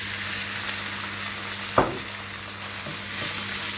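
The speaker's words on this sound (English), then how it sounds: "now I'm going to add my meat back into the pan again." Meat and slightly browned onions frying in a pan for a meat and potato pie, a steady close sizzle with a sharp stirring clatter near the middle and softer scrapes later.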